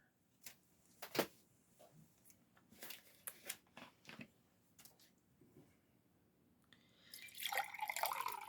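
Clean water for a mixed media painting being handled, with faint scattered drips and small taps followed by a brief splashy pour at the end, quiet and close with no voices.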